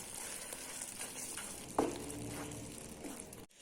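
Pepper powder being stirred into a simmering egg masala gravy in a pan, with a steady soft sizzle and a utensil scraping through the thick sauce, one sharper clank midway.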